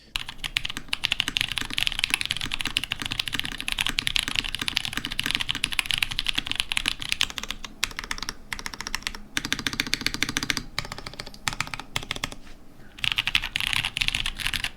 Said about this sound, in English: one of the members sent us this spydertkl for us to stream